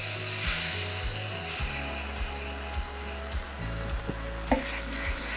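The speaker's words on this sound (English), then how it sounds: "So now I'm gonna add in a little bit of tomato paste" Tomato paste sizzles and crackles in a hot pan for a roasted seafood sauce, with steady frying hiss, scraping stirs and clicking utensil knocks, while low tonal background music plays throughout.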